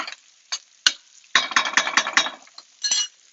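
Sorghum and vegetables sauté in butter in a pan, with a soft sizzle under repeated stirring scrapes and clinks of a utensil against the pan, coming in short bursts and one steady run of strokes.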